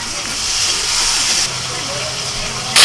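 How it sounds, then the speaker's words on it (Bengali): Prawns hit hot mustard oil in a wok, giving a steady broadband sizzle and hiss that runs throughout, with a brief louder burst near the end. "তেলটা গরম হয়ে গেছে, এখন আমি চিংড়ি মাছ দিয়ে দিচ্ছি।"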